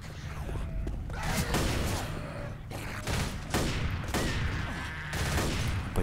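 Gunfire in the video game Left 4 Dead, with repeated bursts of shots and clattering weapon sounds in quick succession, fairly dense across the stretch.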